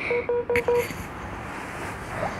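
Mobile phone chiming a low-battery alert at 4% charge: a quick run of four short, clear tones with a higher blip, then a fading background hum.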